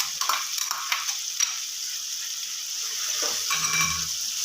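Onion frying in hot oil in a pan during a Pakistani home curry preparation, a steady hiss with scattered crackles and a few stirring clatters near the end, alone without talk.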